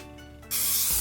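Cooking spray hisses onto a nonstick bundt cake pan in one short, close, steady burst that starts abruptly after a quiet moment, with a faint clunk near the end.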